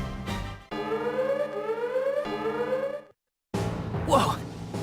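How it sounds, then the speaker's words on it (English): An enemy detection alarm sounds in the video game The Awakened Fate Ultimatum: loud rising siren sweeps repeat three times, then cut to silence before other game sounds resume. "That is the enemy detection alarm."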